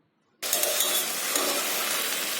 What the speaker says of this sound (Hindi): मीडियम फ्लेम पे थोड़ी देर के लिए चलाते हुए सारे सब्जी और ड्राई फ्रूट्स को मैं सौटे कर लेती हूँ